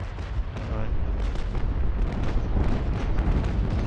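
Heavy naval guns pounding away at an enemy ship in a naval combat video game, a dense and continuous rumble of overlapping booms and blasts, loud and close throughout.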